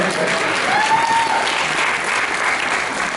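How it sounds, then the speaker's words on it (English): Audience applause at a fan convention Q&A panel for a Torchwood actress, a steady dense wash of many hands clapping from a large crowd, sustained and fairly loud throughout. "give her a round of applause, please, everyone."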